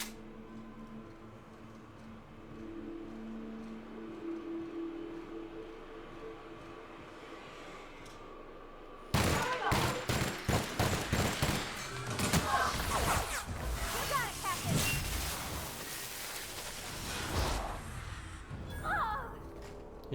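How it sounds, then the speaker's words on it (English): Light or heavy machine gun fired in a video game, a sudden burst of rapid, loud shots starting partway through, running for several seconds over a quieter ambient game background. "Here's my light machine gun"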